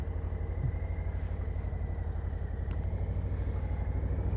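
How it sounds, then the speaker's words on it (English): A stock Harley-Davidson Low Rider ST motorcycle engine idles with a steady, low, pulsing rumble, close and even in level throughout, with no one talking. "It's going to give you a little bit of rumble out of this motor in its stock configuration"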